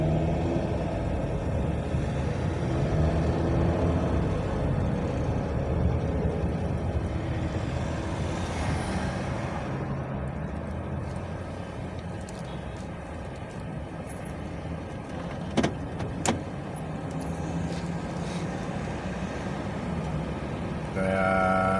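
Road traffic on a highway in Dammam, a continuous low rumble of cars, buses and trucks heard from inside a vehicle, with a couple of brief clicks midway.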